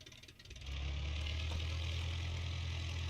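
A SPAD biplane's engine in the flight game Aces of Thunder idles, first lower, then steadying into a loud, even droning hum that holds without a break.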